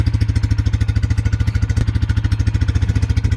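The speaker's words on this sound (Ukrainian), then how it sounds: "досить басовитий вихлоп, звучить техніка досить приємно" A Shark Titan 300 shaft-drive quad bike engine idles with a deep, bassy exhaust thump, rapid and even pulses close by, running steadily without any voices.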